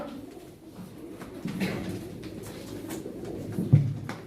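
Pigeons cooing in a steady low murmur, several birds close by at a pigeon auction, with no talking.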